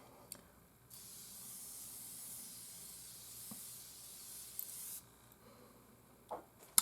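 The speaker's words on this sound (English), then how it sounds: "So the spray on this one, it's very wide and it's also incredibly fine" Morphe Lifeproof continuous setting spray releases a wide, fine mist as one soft, steady hiss lasting about four seconds, with faint handling taps before and after.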